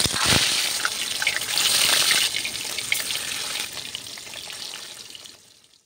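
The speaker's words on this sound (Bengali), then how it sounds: "এবার আমি মাছগুলো ভেজে নিচ্ছি এক এক করে।" Pieces of rohu fish frying one by one in hot oil in a kadai on a gas stove, a loud, dense crackling sizzle that swells early and slowly fades toward the end, with no voices.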